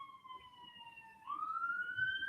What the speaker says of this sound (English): there's loads of sirens